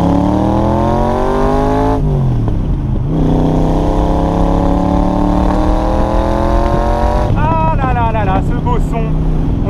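An AC Cobra Shelby with a 302 hp engine accelerates hard, loud rising engine notes climbing through gears with brief drops at each shift, the roar close and continuous, with a voice heard over the engine.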